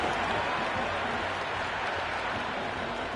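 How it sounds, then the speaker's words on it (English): Cricket crowd at a match cheering and applauding, a steady dense roar of clapping and voices filling the whole stretch at an even, fairly loud level. "The crowd is electric right now."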